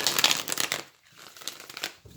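Santa Muerte tarot cards shuffled by hand, a dense papery riffle and rustle close up, pausing briefly before a second burst of crisp shuffling.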